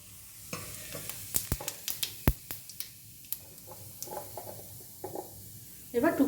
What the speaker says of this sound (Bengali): কড়াইতে দেবো সাদা জিরে ফোড়ন,